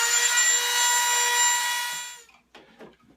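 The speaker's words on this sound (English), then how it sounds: "took a little bit of power tools, but we got it cut out" A power tool cuts material to fit a fan into a homemade tent air conditioner, a loud steady whining drone for about two seconds that winds down and stops, followed by a few faint scraping and handling sounds.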